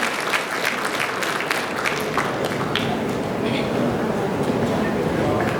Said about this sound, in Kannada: ಕನ್ನಡಿಗರು ಒಂಚೂರು ಚಪ್ಪಾಳೆ ಹೊಡಿಬೋದು ನಮ್ಮ ಕನ್ನಡದ ಹುಡುಗಿಗೆ ಪ್ಲೀಸ್